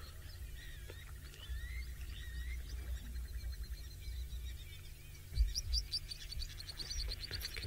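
Assorted birds call around a quiet watering hole on a safari, among them a blacksmith lapwing; faint chirps and whistled notes rise over a low steady rumble, with a brief louder burst near the end.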